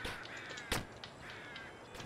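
Caw of a crow in the video game Jump King, a few harsh calls standing out over a dense, steady game soundscape with no voices.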